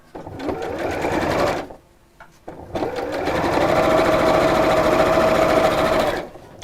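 A sewing machine stitches fabric binding in two long, steady runs of rapid mechanical whirring, close and loud, with a brief quiet pause between them.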